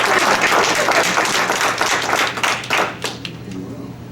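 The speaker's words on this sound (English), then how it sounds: "Should we clap, you all?" Audience members at a Board of Education meeting break into loud, close applause that thins out and fades after a few seconds.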